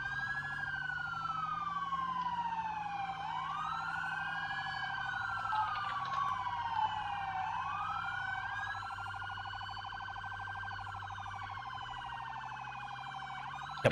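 A continuous wailing police siren in a video game, sweeping up and down in pitch, loud and steady for the whole stretch, with no talking.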